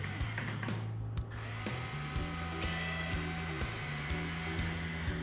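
A power screwdriver drives a screw into a clean room frame while plastic film is stretched over it, whirring steadily with repeated pitch shifts and short clicks, close and loud with no talk.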